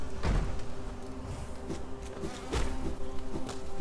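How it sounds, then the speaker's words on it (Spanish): A large bee enemy buzzes steadily inside the Hollow Knight hive, a continuous droning hum with a few sharper pulses, heard alone at moderate volume. "Aquí está esta abeja loca."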